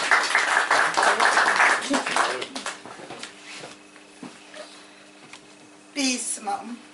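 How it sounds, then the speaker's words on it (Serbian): An audience at a poetry evening claps in a brief burst of applause, followed by quieter talking and a few stray sounds. "Aplauz"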